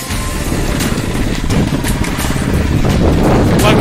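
The engine of a motorized bicycle runs loud and close on a bike trail in Houston, Texas, with a rough, rapid buzzing putter and a slight clatter.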